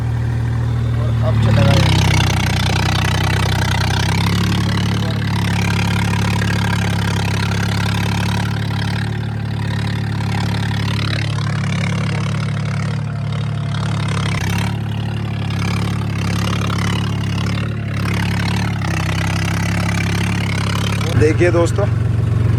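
A tractor engine on a farm holds a steady, loud, deep chugging at around 1500 RPM with slight shifts in pitch. Someone talks over the continuous drone throughout.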